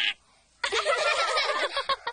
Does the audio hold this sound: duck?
yes